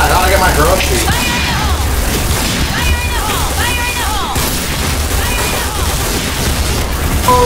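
A loud grenade explosion rumbles through a noisy Piercing Blow firefight, with steady booming and mechanical clatter throughout and voices mixed in.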